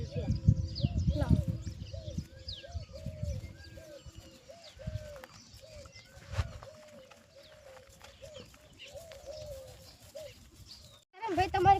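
A young female pigeon coos over and over in soft, evenly spaced calls, with chirps and rustling around it and people talking nearby.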